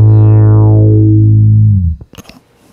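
A bass note through an Electro Harmonix Bass Micro Synthesizer with square-wave distortion rings out as a loud, buzzy, harmonic-rich tone that bends downward and decays, then cuts off, followed by a few short clicks and string noises.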